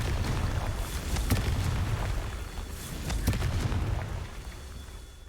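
In Hogwarts Legacy, the Confringo fire spell goes off with a dense, continuous rumble of blasts. Sharp bursts and pops sit on top of a loud, low roar that lasts several seconds.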